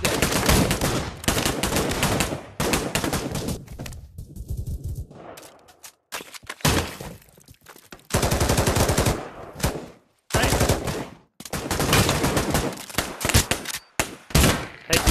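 Fully automatic weapons fire in a team-deathmatch-style shooter video game: long, loud, rapid bursts of gunfire broken by short pauses and a few quieter gaps, all close and with no talking.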